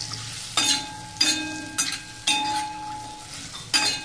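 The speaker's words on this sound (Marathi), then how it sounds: "असं थोडंसं हलवून घ्यायचं" Bitter gourd with a pinch of salt stirred in a pan: a few separate bursts of scraping and light sizzle, each about half a second, with faint metallic clinks against a quiet background.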